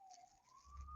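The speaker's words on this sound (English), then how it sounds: "And here comes the sirens." Emergency vehicle sirens sound outside during a summer science club teaching update, a single steady rising wail continuing through the clip with a low rumble building toward the end.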